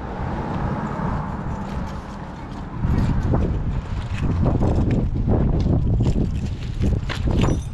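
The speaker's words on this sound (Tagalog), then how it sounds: "Mahangin at malamig." Cold, gusty wind in Canada buffets the microphone with a loud, low rumble that swells and churns continuously, with scattered thumps and rustling mixed in.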